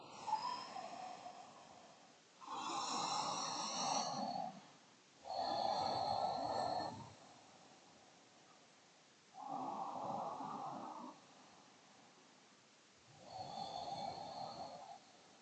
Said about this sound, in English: we'll take 5 long, deep breaths here.